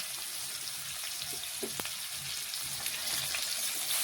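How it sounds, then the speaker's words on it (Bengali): A large chopped onion fries in oil in a pan while being stirred, a constant close crackling sizzle with a couple of soft utensil taps, the hiss growing slightly louder toward the end. "নাড়াচাড়া করে একটু পেঁয়াজটা ভেজে নিচ্ছি।"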